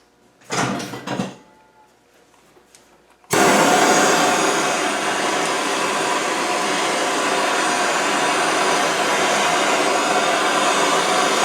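A heat gun aimed at a Land Rover Discovery 2 steering box starts abruptly after a few quiet seconds and then blows as a loud, steady roaring hiss, preceded by brief clunks of handling.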